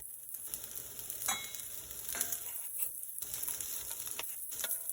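Spaghetti carbonara with black pepper cooks in a pan over medium-high heat, a steady close sizzle punctuated by repeated utensil scrapes and taps as it is stirred.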